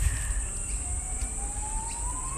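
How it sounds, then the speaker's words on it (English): Sirens of emergency vehicles pass near a South Brisbane cemetery as a faint rising wail, distant and steady, under low traffic rumble with no talk. "You can hear the sirens going."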